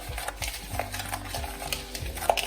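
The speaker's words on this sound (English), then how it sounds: "So we're just gonna stir this, getting rid of any clumps." Sugar and oil body scrub mixture with mica powder being stirred in a bowl, a soft, steady gritty scraping and scooping, close and quiet for a couple of seconds.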